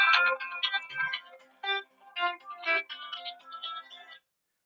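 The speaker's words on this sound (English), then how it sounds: "I forgot to silence my phone." A phone ringtone goes off during a spoken lectionary reading, a bright melodic electronic tune of quick repeated notes, close and clear with nothing else behind it, stopping after about four seconds.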